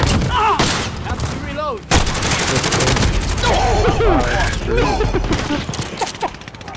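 Heavy gunfire in Call of Duty Modern Warfare multiplayer, with dense, loud bursts of shots and explosions running almost continuously and a short lull near two seconds, mixed with game radio chatter.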